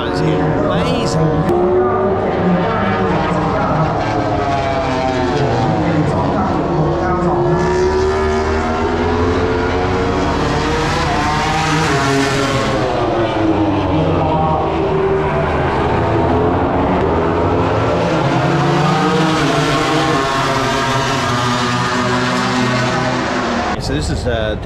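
MotoGP racing motorcycles pass at speed at the Buriram circuit in Thailand, a loud continuous engine wail that rises and falls in pitch as the bikes sweep by and shift, with voices faintly mixed in.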